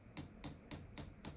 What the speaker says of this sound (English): Then we'll break out the hammer and a rod just to bash the gudgeon pins through.